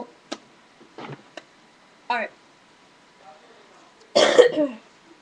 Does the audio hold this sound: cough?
yes